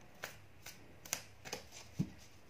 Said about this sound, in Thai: เดี๋ยวขออนุญาตเปิดไพ่ เพิ่มนะคะ